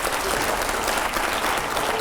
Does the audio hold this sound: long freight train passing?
no